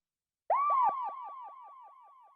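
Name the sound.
woo vocal sound effect with reverb and delay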